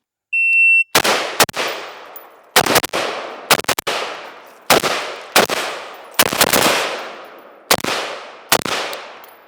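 Rapid bursts of rifle fire at targets crack out in quick clusters of two or three, each ringing off with a decaying echo, loud and close, after a brief electronic beep at the start.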